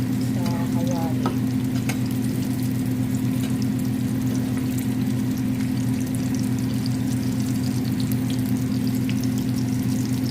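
Eggplant pieces fry one by one in a pan, giving a loud, continuous close sizzle over a strong steady low hum, with a few faint clinks near the start and no talking.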